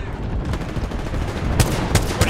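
Two squads trading gunfire in Apex Legends, a continuous crackle of distant shots with several sharper, louder bursts near the end.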